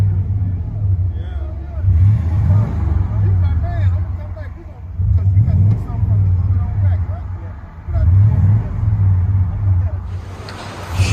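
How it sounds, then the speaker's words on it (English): A 1998 Chevy Silverado 1500 with a 5.7L V8 and 14-inch Magnaflow exhaust, heard from inside the cab as a low droning rumble that rises in rev swells several times, with someone talking over it. "Chevy Silverado 1500 with a MAGNAFLOW."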